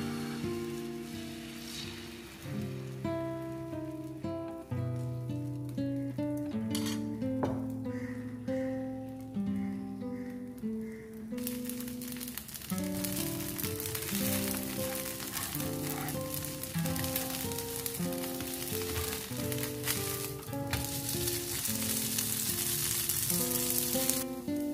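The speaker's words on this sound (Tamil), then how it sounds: "இப்போ வந்து நம்ம தோசை சுட்டு எடுத்துக்கலாம்" Bottle gourd dosa batter sizzles and fries on a hot pan with a steady, rain-like crackle that continues throughout, partly masked by music playing over it.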